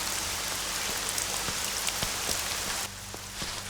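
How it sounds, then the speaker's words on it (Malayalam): Steady rain pours down on a surface near a house, a dense continuous hiss with scattered individual drop taps, easing slightly toward the end, with no voices. "ആ മഴയില്ലേ?"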